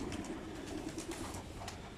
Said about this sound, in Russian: Голуби буквально преследуют.